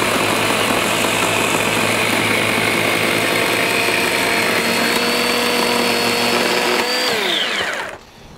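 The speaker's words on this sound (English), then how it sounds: "I want my chainsaw. I'm gonna cut it off with this." A chainsaw cuts off a wooden post for a homemade garden gate, running loud and steady up close for several seconds before the engine winds down and stops.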